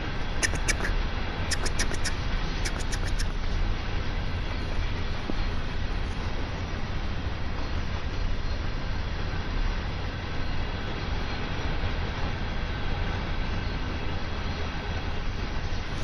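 A freight train runs at speed on the Clinchfield Railroad Greenbriar Branch in Train Sim World 2, giving a steady, loud, unbroken rumble and clatter of wheels and cars with a few brief high squeals near the start.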